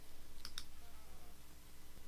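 Two quick, faint computer mouse clicks in close succession during Photoshop work, heard over a steady low electrical hum with no talking.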